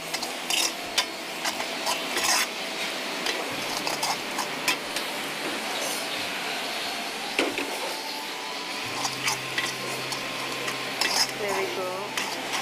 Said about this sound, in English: Sizzling up quite nicely too.